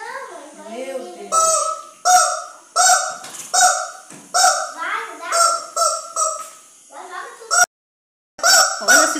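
A chicken squawks in loud, repeated honking cries in a home kitchen, the bursts coming one after another with short gaps and one brief cutoff, while voices talk around it.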